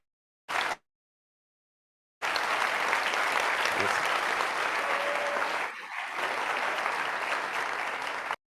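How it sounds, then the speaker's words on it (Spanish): Applause from an audience at a Spanish-language talk. A brief burst of clapping cuts off into silence, then a dense, loud round starts up and holds for about six seconds, with a faint voice briefly audible partway through. "Aplaudan eso"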